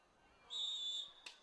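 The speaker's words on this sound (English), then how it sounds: "And we're going to have a whistle and a penalty on Truckee's Costello." A referee's whistle at a soccer match between Truckee and RCC, one sharp, moderately loud blast lasting about half a second over faint background noise, followed by a brief thump.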